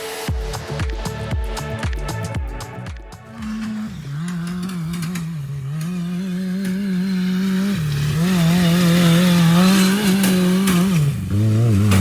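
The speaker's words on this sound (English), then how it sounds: "it's definitely skipping that chain" Honda Odyssey buggy with a GSX600 engine swap, its engine revving loudly and climbing in pitch, with rattling chain clatter and skipping at the start and a drop in revs near the end.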